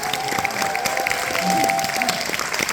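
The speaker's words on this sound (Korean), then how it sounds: "박수 한번 보내주시기 바랍니다" An audience claps steadily at a party convention meeting. The dense, even applause fills the room and stays close and sustained throughout.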